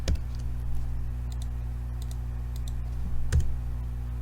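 Control and number pad 1 pressed on a computer keyboard, giving a couple of sharp clicks over steady electrical hum, with no talking.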